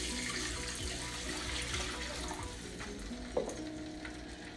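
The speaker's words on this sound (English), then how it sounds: "Alright, so I'm gonna go in with 4 cups of water" Water is poured into a hot pot where stew peas with pig tails are cooking, giving a steady sizzling, bubbling hiss with a small splash near the end and no talk.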